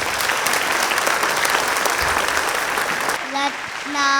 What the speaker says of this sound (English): Let us welcome our little stars on stage with a big round of applause.